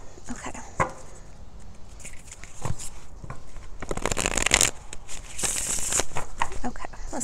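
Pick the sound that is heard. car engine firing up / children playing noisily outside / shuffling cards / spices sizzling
shuffling cards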